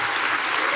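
A crowd at a Donald Trump campaign rally in Hilton Head, South Carolina, claps in a dense, steady burst of loud applause, with no voices standing out.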